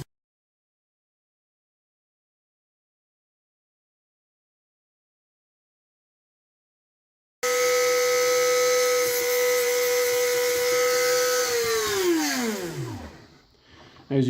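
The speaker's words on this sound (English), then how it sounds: "we're just going to drill a hole right in the center using this 1/16 inch drill bit" After silence, a small drill with a 1/16 inch bit whines at a steady high pitch boring into a lock pin, then winds down as the motor slows to a stop.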